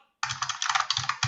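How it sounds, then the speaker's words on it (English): Rapid clattering keystrokes on a computer keyboard during an online group call, close and fairly loud, a dense run of clicks with a brief pause near the end before typing resumes; no voices. "We can hear someone typing."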